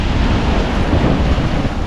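Strong waves pound the shore at Balatan port during a typhoon, with a continuous loud roar of surf mixed with heavy wind buffeting the microphone.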